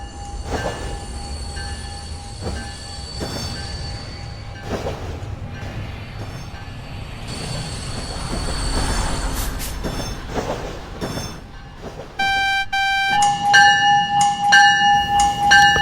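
A New Jersey Transit train runs in the Roblox game Rails Unlimited, with steady rumbling wheels and rail clatter, scattered squeals and clanks, and a ringing bell that grows louder near the end.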